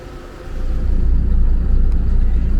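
Inside the driver's cabin of a front-engine intercity bus on the road, a loud low engine rumble and road noise that swell after the first half second and hold steady, close and continuous.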